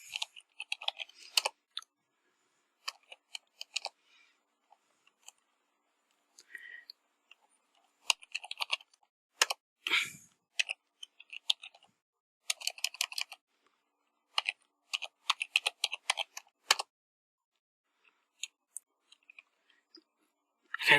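Bursts of typing on a computer keyboard while entering login details, quick clusters of crisp key clicks separated by pauses, close and fairly quiet.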